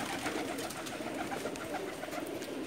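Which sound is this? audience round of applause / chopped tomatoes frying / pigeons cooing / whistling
pigeons cooing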